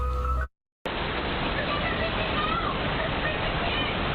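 Floodwater rising in a residential driveway, caught on a doorbell camera, with a continuous loud rushing wash after a brief cutoff, steady and close with no clear voices.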